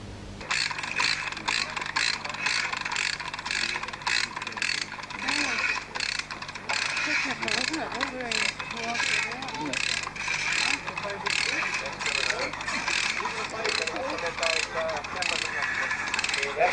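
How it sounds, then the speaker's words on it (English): A winch drags a long hall beam a few millimetres into line, giving a steady, continuous mechanical ratcheting with rapid regular clicks over a low hum throughout, fairly close and loud. "the winch is being used to pull it into place"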